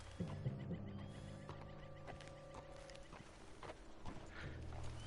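Hitched horses in Red Dead Redemption 2 on PS4 give a few low, wavering whinnies over faint hoof clops and creaking tack, quiet and somewhat distant.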